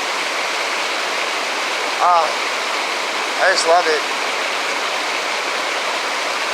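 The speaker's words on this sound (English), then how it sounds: "Can you even hear me over how loud this river is?" A loud river rushes in a steady, close wash of water noise throughout, with a person speaking briefly over it.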